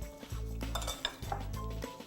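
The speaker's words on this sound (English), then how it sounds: "Stir it together." Fruit tossed with cornstarch in a bowl for a tart filling, stirred with a spoon that scrapes and clinks against the bowl in short repeated strokes, close and fairly quiet.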